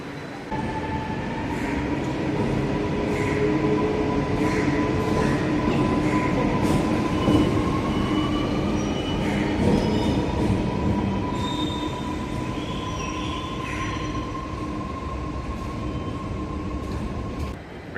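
An elevated MRTS train rolls through St. Thomas Mount railway station with long, steady metal wheel squeal and rumbling, loud and continuous throughout, with a higher screech joining partway.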